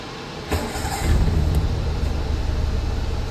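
A cold Daihatsu carburetor engine with a manual choke cranks and catches, then settles into a steady, loud idle around a thousand rpm with a rough, throbbing low rumble.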